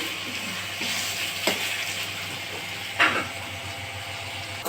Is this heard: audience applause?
no